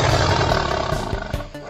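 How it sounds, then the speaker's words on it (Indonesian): A tiger's roar, heard as a toy tiger is washed clean of mud, rumbles loud and close, a continuous deep growl with a few sharper bursts toward the end. "Tiger."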